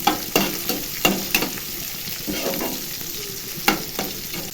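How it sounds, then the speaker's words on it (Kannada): Onions frying in a pan for a chicken dry recipe, with a steady sizzle under repeated sharp scrapes and clinks of a spatula stirring, close and fairly loud, no talking. "ಈರುಳ್ಳಿ ಸ್ವಲ್ಪ ಗೋಲ್ಡನ್ ಬ್ರೌನ್ ಬರಬೇಕು, ಅಲ್ಲಿಗೂ ಚೆನ್ನಾಗಿ ಫ್ರೈ ಮಾಡ್ಕೊಳ್ಳಿ"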